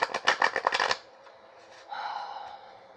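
A tarot card deck is shuffled quickly in a crisp flutter of riffling cards lasting about a second, followed by a soft lower rustle and handling noise that fades off.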